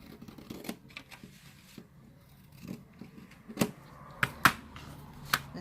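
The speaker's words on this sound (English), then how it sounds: "So what I'm going to do is I'm just going to cut" Scissors cut around a paper snowman cutout for a Christmas cocoa packet, with a series of quiet, close snips at irregular intervals and soft paper rustling between them.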